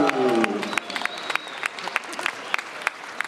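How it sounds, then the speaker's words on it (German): A crowd at a trade-show slackline demonstration breaks into a short burst of applause that quickly thins into scattered individual claps and sharp isolated hand smacks, with a voice briefly heard at the start. "Können wir nochmal einen riesigen Applaus haben?"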